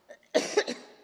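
A single sharp, close cough with a short follow-through rasp rings out in a church during a morning service welcome, preceded by a faint breath.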